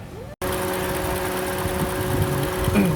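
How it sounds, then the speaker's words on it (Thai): A 2008 Toyota Corolla Altis engine idles steadily with a low, even hum and slight vibration, close by, with a brief dropout just at the start; the engine has a shaking fault. "สตาร์ทเครื่องยนต์อยู่นะครับ"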